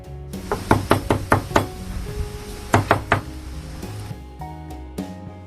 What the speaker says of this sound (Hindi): इतनी रात में ऐसा दरवाजा क्यों पीट रहे हैं?